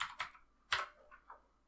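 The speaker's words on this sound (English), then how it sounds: "we'll just right click and start typing scalar" A few quick keystrokes on a computer keyboard while typing a search into 3D software, with distinct taps in small bursts, close and clear with no talking.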